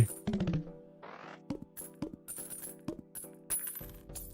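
Bright coin clinks chime in Balatro, a quick cascade of metallic plinks at the start followed by spaced single jingles and tones over a quiet game music bed.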